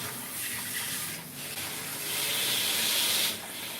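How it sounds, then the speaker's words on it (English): A tap runs steadily as water warms up for grooming a partially pelted Persian cat, a close, continuous hissing gush that swells louder partway through, with no talking. "Get this water nice and warm."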